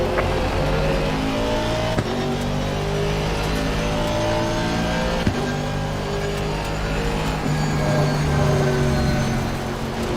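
A race car engine in a sim racing video game drones loudly and continuously at high revs, with a layered whining hum and brief shifts, and no talking.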